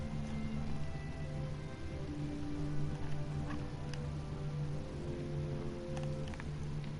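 Steady light patter of falling rain in a Game of Thrones video game, a soft continuous hiss with faint scattered droplets and low tonal game sounds underneath.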